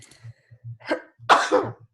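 A single sharp, explosive sneeze close by, preceded by a short intake of breath, over a faint low hum in a quiet room.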